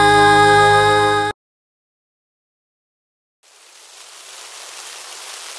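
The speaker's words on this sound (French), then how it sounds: "Oh, il pleut!" In a children's song, after a tonal passage and a moment of silence, a steady hiss of falling rain fades in and continues evenly at moderate loudness.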